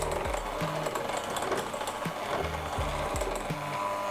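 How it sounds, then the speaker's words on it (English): An electric mixer runs on its lowest setting through cake batter, a steady close motor whir with a regular rhythmic churning pulse throughout. "you want to keep the mixer on low"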